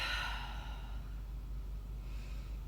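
A big breath drawn in during a yoga flow, one long airy inhale that fades out, close and fairly soft, with no talking over it.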